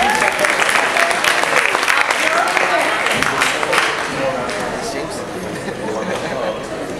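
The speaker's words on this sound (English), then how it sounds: "Give a round of applause." Audience applause fills a school cultural program, a loud, dense burst of clapping mixed with crowd chatter that slowly tapers in the final seconds.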